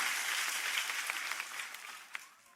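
A church congregation applauds in praise of God during a worship service, the steady clapping fairly faint and gradually fading away over a couple of seconds.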